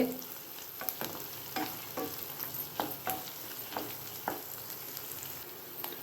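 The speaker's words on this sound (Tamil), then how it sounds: "வெங்காயம் நல்லா வதங்கிடுச்சு." Onions sauté in a pan for beetroot poriyal, a constant sizzle broken by repeated sharp scrapes and clinks of a spatula stirring at an irregular, lively pace.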